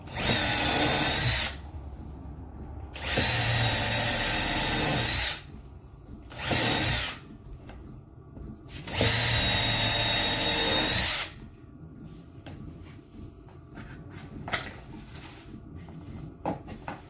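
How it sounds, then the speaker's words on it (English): A power drill runs in several loud bursts of a few seconds each, separated by pauses with faint clicks and handling noise. "bottom line, it's a lot of drilling"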